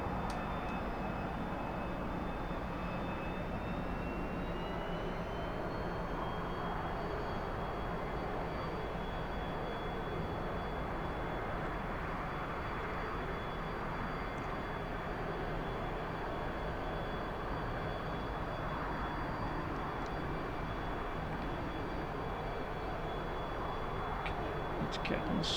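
Steady, continuous jet engine whine and rumble from a T-45C Goshawk in the DCS flight simulator on a landing approach, with a sustained high tone that rises slightly early on and holds level for the rest.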